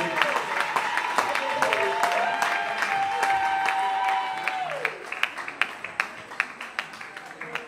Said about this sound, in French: Est-ce qu'on peut les applaudir bien fort?